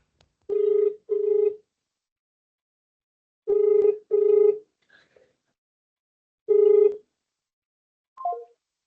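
A phone rings out during a workplace motivation talk: three bursts of a clear electronic ringtone, two double pulses and a single one, loud and close, with a faint chirp at the end and no talking over it.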